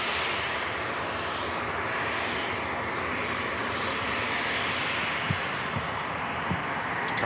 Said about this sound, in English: And we've got a Virgin Atlantic 350 on finals.